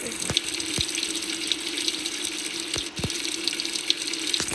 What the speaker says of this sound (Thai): โอเคเดี๋ยวผมเอาแก๊สมาเติม